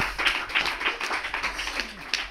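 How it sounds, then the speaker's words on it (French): A small lecture audience claps unevenly, with scattered distinct hand claps rather than a full roar, fairly close. "Je pense qu'on peut l'applaudir."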